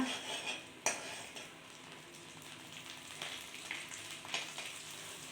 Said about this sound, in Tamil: நல்லா உருகிட்டு இருக்குது வெண்ணெய்